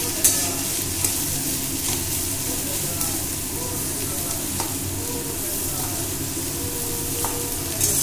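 Chicken stew ingredients frying gently on a low flame, a continuous soft sizzle and hiss with occasional faint clicks of stirring, close and even throughout.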